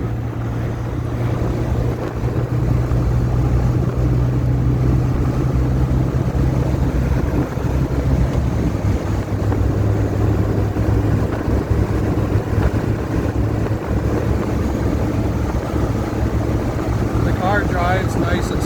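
A 1976 Alfa Romeo car driving on a windy day, its engine a steady low drone under heavy wind buffeting on the microphone, continuous and close throughout, with someone talking over it.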